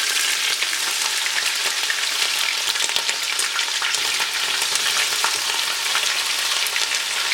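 Sliced onions sizzle and crackle steadily in hot oil or ghee in a home kitchen pan, a dense, continuous frying hiss with small pops throughout and no talking.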